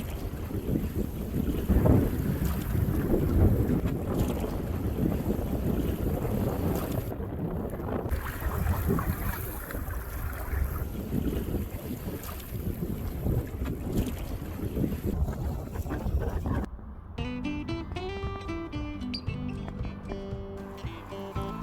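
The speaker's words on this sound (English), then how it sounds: "the wind slowly crept up on us from behind" Strong wind buffeting the microphone while packrafting across Lago Desierto in Patagonia, a steady roar with gusts and water sloshing, then a calmer stretch near the end with a melodic tone.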